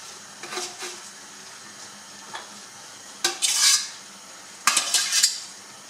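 Cooked couscous for a traditional Algerian couscous royal being scraped and transferred into a large plate, with a few soft scrapes followed by two louder bursts of clinking and rustling, close and alone.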